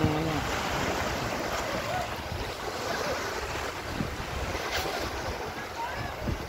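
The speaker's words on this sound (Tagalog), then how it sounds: "Ito yung dagat." Surf rolls onto Maraytay Beach in a continuous wash of broken waves, with gusty wind buffeting the microphone and a lively crowd murmuring faintly in the background.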